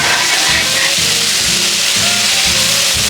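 Ribeye steaks sizzle loudly and steadily on a Blackstone griddle with its burners off, a close, continuous hiss and crackle with a faint rhythmic scraping underneath.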